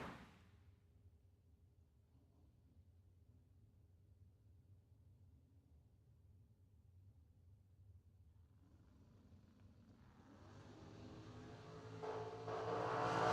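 Corvette and a 70-bodied Camaro launch off the line in a drag race, a low engine rumble building from a steady idle into loud rising revs in the final seconds.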